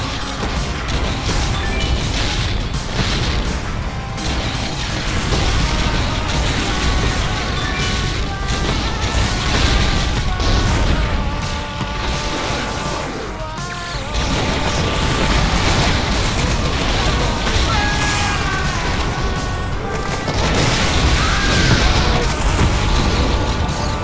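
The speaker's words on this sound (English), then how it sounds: "Rocket Launcher!" Rocket launcher blasts and explosions roar in the Doom x Metal Slug game, a dense, loud, continuous barrage of booms and crashes over game music with no pauses.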